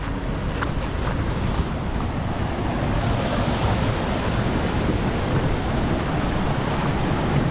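A raging river pours over a weir in Bali, a loud, dense and unbroken roar of rushing water with wind buffeting the microphone and no talk.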